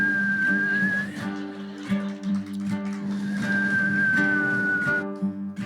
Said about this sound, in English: there's a whistling solo here